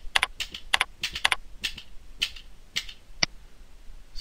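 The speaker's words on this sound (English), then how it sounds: "hitting the space bar repeatedly, we can cycle through all of the different allowed transitions" A computer keyboard space bar is struck repeatedly, giving sharp close clicks, some in quick doubled pairs, spaced irregularly across a few seconds with quiet gaps between.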